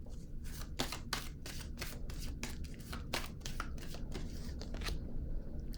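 A deck of tarot cards is shuffled by hand, a rapid run of crisp riffling bursts and flicks, close and fairly loud, repeating at an uneven rhythm with no talking.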